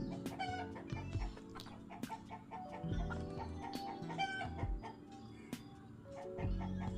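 Farmyard hens clucking in a steady, busy stream, with scattered sharper calls and a rooster-like cry over a dense layer of poultry noise close by.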